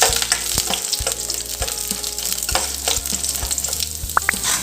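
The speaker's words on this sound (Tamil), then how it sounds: "கடலைப்பருப்பும் உளுந்தம்பருப்பும் நல்லா ஆயிலில் ஃப்ரை ஆகி வரட்டுங்க." Chana dal and urad dal frying in oil, a close, busy sizzle broken by repeated sharp spatula scrapes and taps against the pan, with no speech.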